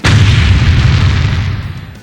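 A loud, booming explosion effect in a comic-book story narration, an immediate heavy blast that sustains as a dense low roar and slowly fades out, standing alone with no voices.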